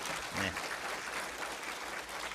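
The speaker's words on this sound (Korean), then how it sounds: "박수로 환영해 주시기 바랍니다" Sustained audience applause fills the clip, a steady wash of clapping from a church congregation without a break.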